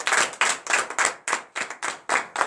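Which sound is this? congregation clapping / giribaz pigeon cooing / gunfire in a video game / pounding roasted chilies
congregation clapping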